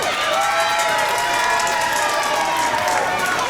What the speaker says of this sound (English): a round of applause here from the Kraken Collective